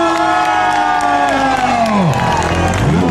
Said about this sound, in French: Dès qu'elle lève, je veux un tonnerre d'applaudissements.